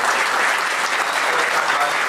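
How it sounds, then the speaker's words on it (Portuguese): Audience applause at a university human rights gathering, a dense steady wash of many hands clapping, loud and close throughout the short burst, with no talk. "pedir uma salva de palmas pela força"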